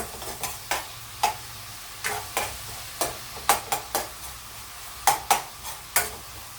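Minced pork and garlic stir-fried in a hot pan for a bitter melon and egg dish, with a soft continuous sizzle under repeated sharp scrapes and clacks of the spatula at an uneven rhythm.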